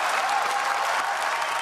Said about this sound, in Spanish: el plenario se llenaba de aplausos